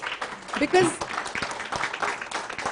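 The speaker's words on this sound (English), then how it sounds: "Can we have a round of applause for them?" Audience applause at a national conference on youth employability and entrepreneurship, a short burst of clapping from the crowd with a speaker's voice coming through over it.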